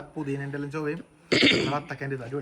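A woman clears her throat once with a short rough burst between stretches of close conversation, her voice continuing before and after.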